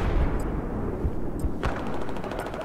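Battlefield 4 multiplayer gunfire, several sharp shots with low booming reports and a short burst of rapid fire near the end, loud against a rumbling game background.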